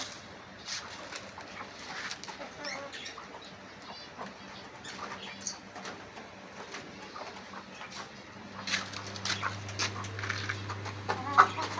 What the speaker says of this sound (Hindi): देखिए फ्रेंड्स दाना खा रही मेरी मुर्गियाँ।